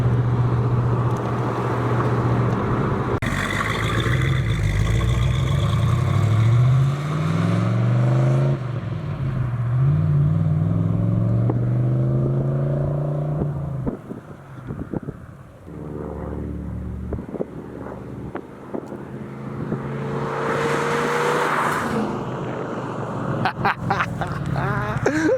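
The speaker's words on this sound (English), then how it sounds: "You can hear that Quadrajet moan." A 1981 Trans Am with a Quadrajet carburetor and a 4-speed is being driven. The engine gives a droning moan that rises and falls through repeated revving sweeps, with wind buffeting and a few short bursts under it.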